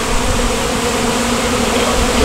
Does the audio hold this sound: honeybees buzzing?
yes